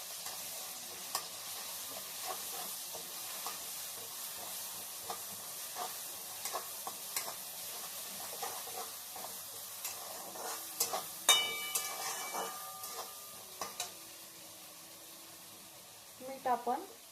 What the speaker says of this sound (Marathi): हिरवी मिरची चांगल्या प्रकारे परतून घ्यायची।